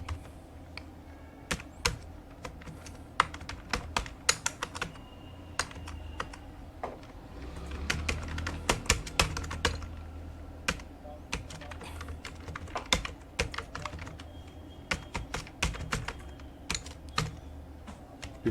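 Typing on a computer keyboard while entering text into an Excel sheet, with irregular bursts of close, crisp key clicks, some quick runs and brief pauses, and no talk.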